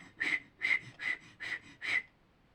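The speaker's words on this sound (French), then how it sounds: "Ben oui, je siffle, mais je souffle en même temps." A person whistles five short, evenly spaced notes at the same pitch, each a breathy, airy tone heard close and alone with no talking.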